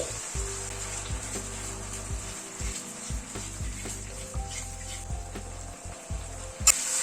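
Cashew and poppy seed paste, then hot water, goes into a pan of vegetarian kofta curry masala frying in oil. It sizzles steadily and loudly up close, with stirring scrapes and short bursts as the liquid hits the hot pan.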